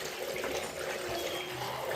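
Water poured into a pot of raw water chestnuts with a little salt makes a steady, close rushing splash that runs for about two seconds.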